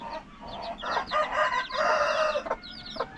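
Chickens and chicks in a coop, with clucking and chirping layered over brief crow-like calls, fairly close and continuous with no talk.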